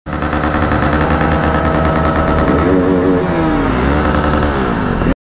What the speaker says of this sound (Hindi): तो गाइस फाइनली हो गई इसकी बाइक स्टार्ट।